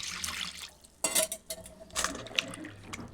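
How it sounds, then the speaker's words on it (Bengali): Thinly sliced round potatoes are washed in water, with quiet sloshing and a few louder splashes and swirls at irregular moments against faint background hum. "তো এরপর এই আলুগুলি জল দিয়ে ভালো করে ধুয়ে নেব।"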